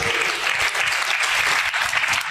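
A church congregation claps hands for Jesus, a dense, continuous wash of many hands clapping at a steady loudness throughout, close and full.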